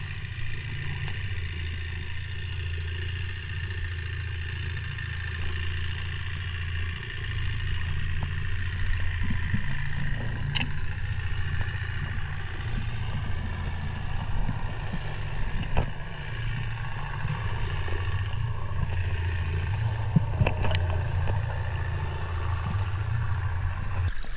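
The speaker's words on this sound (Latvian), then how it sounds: "Gar tiltiem braukā arī laivas, un ļoti grūti saprast, kur tā laiva ir, jo ūdenī izklausās, ka viņi ļoti, ļoti tuvu." Boat motors passing near a bridge in Norway, heard underwater, a continuous low droning hum with faint clatter and occasional sharp ticks, steady and close-sounding throughout, no voices.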